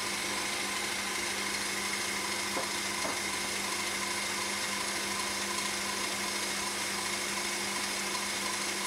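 Stand mixer whipping French meringue with sugar added, a steady continuous electric motor whine with constant tonal hum running throughout at high speed, no voices.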